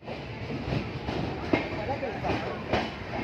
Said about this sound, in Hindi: अपनी प्लेटफॉर्म नंबर 1 पे अपनी ट्रेन आई है